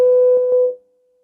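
A steady pure sine-wave test tone at medium amplitude sounds for under a second as a smooth, even hum, with a couple of faint clicks over it, then it cuts out abruptly into silence.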